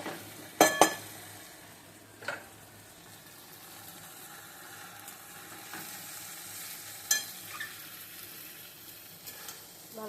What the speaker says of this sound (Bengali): আমি চাউমিনটা দিয়ে দেবো ঢেলে